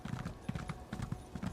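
Horse hooves clip-clop steadily in the video game Elder Scrolls Online, a quiet, even walking rhythm of paired beats with no talk over it.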